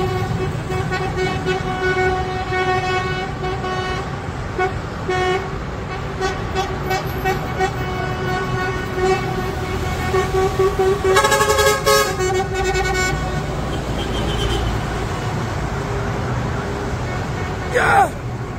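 Sotra buses parade through the streets of Yamoussoukro, sounding repeated horn toots and blasts over a continuous rumble of engines and traffic, with people talking and cheering nearby.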